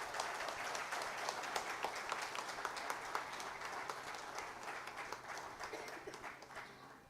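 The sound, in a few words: audience applause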